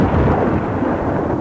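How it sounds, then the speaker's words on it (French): Thunder from a mountain storm in a radio drama, a loud, close, continuous rumbling roar that fills the whole moment without any voices. "Oh, caramba, que l'orage."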